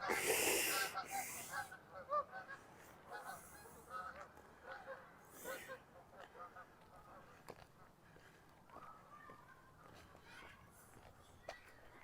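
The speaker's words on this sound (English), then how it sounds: "Oh, more geese. There they are. Oh, close overhead." Geese honking as they fly low and close overhead during a walk in Regina on a warm October day, several calls bunched loudly at the start and then trailing off into fainter scattered honks over outdoor background noise.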